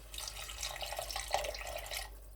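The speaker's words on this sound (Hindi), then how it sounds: "अभी इस मौके पे फिर एक बार थोड़ा सा पानी ऐड करूँगा बीच में" A thin stream of water pours into a pot while black chickpea rice cooks, a faint, steady trickle with small splashy flickers running for a couple of seconds before stopping.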